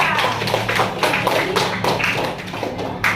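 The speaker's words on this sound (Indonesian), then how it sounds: "beri tepuk tangan untuk Winda" Children in a classroom give a round of applause, dense, fast patter of many hands clapping continuously and fairly close, with faint voices mixed underneath.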